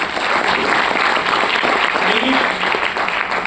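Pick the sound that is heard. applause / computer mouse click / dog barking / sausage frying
applause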